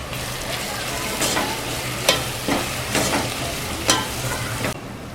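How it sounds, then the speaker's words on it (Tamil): Onions and tomato fry in a pan with biryani masala, a steady sizzle broken by several scraping stirs of a spatula, close and alone with no voices. "ஸோ அது கூட நம்ம ரெடி பண்ணி வச்சுருக்க பிரியாணி மசாலா அதையும் சேர்ந்து நல்லா வதக்கிக்கோங்க"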